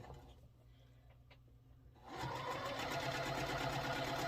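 A sewing machine stitches quilt block pieces together, starting faintly after a near-silent opening and then running steadily and loud for the last two seconds, a continuous mechanical whir with no talk.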